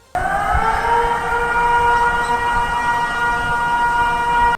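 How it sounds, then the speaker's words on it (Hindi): A loud tsunami warning siren wails steadily along a coastline with a sustained, multi-toned drone that starts abruptly and holds at full strength throughout. "वहां किनारे वाले इलाकों में खतरे के सायरन गूंज उठे।"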